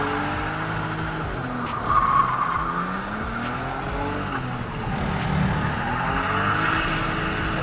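A Unos S Special Type 2 car pulls away hard, its engine droning steadily with tyre squeal layered over it, revs rising and falling, loud and close throughout.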